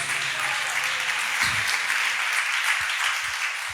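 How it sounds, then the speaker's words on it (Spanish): Congregation clapping during a Spanish-language Bible study at church, a steady wash of applause lasting several seconds, moderately distant, with a few faint voices underneath. "Dele palmas a Cristo Jesús."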